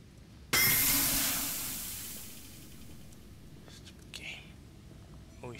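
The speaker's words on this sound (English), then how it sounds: "Enough with the steam, please." Steam in the video game Vanish releases in a sudden, loud hiss that decays slowly over several seconds. Quieter game sounds follow.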